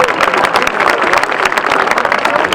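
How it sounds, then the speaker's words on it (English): An audience applauds at the Alex Sotir Stadium dedication, a steady, dense wash of many hands clapping that holds evenly throughout without letting up. "let's clap it up one more time for them"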